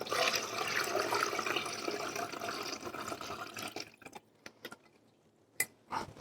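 Turkey broth pours steadily through a strainer into a gravy pan, a continuous liquid rush for about four seconds that then stops, leaving a few faint drips and clinks.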